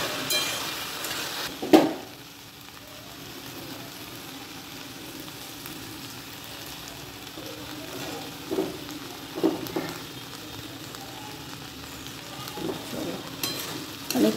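Potatoes frying in a pan, giving a soft continuous sizzle with scattered utensil knocks and stirring scrapes, one sharp clatter near the start, close-miked and without speech.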